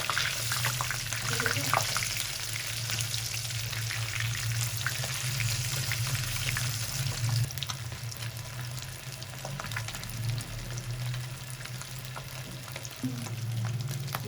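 Fish fingers frying in a pan of hot oil give a dense, even sizzle that runs close and constant throughout, with faint stray kitchen sounds underneath.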